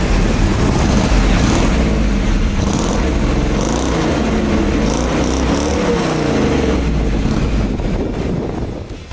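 A 1969 Ford Mustang Boss 429 V8 rumbles loud and close, a steady deep roar with a slight shift in pitch midway and heavy wind buffeting, no talking.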